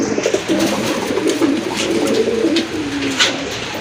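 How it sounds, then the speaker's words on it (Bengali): Large racing pigeons cooing close up, a continuous stream of low, throaty rolling calls overlapping one another. "অনেক বড় সাইজের একটা রেসার কবুতর, পাইট রেসার কবুতর"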